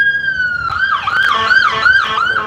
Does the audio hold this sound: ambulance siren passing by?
yes